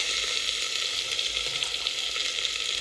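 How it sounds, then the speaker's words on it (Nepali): Meat hitting a pan of cooked-down onions, a loud, close, steady hiss of sizzling frying that holds evenly without talk. "अब यसमा मैले मासु राख्न लागिसकेँ"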